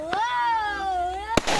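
A Diwali firecracker goes off with one sharp, close bang near the end. A high, wavering whistle-like tone and a faint pop come before it.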